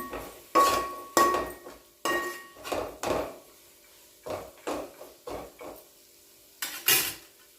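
A spoon scrapes and clinks against a pan as cooked gongura leaves are stirred, with a series of short, distinct metallic strokes in an irregular rhythm that are close and moderately loud, with no talk.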